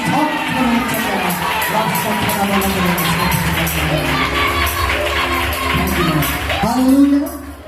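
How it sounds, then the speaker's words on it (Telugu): A church congregation claps loudly in a dense, continuous wash of hand claps mixed with cheering and shouting voices, sustained throughout before easing off at the end. "చప్పట్లు కొడుతూ గట్టిగా"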